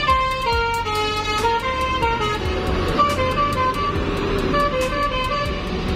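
Busy bus terminal in Kudus, Indonesia, with buses arriving amid loud engine rumble, repeated horn toots and musical bus horns sounding over constant traffic noise.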